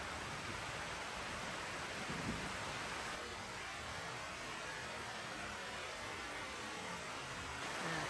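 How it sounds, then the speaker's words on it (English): Rain pouring down on trees at night, a steady faint wash of dense hiss with no distinct drops or voices, unchanging throughout. "And the rain's really coming down."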